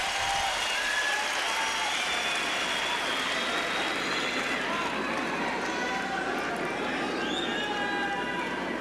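Tennis crowd applauding at the US Open during an Agassi–Federer quarterfinal, a dense, steady wash of clapping and cheering that fills the stadium and fades slightly toward the end.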